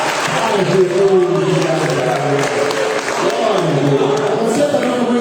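A church congregation claps along steadily during a worship service, the rhythmic applause blended with loud singing voices and crowd noise throughout.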